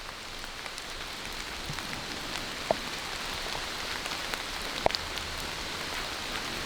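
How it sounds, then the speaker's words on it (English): Light rain falling outdoors by a small tree, a steady soft hiss of drops with a few sharper distinct drips standing out, no voices. "A bit of rain happening, but it's not too bad."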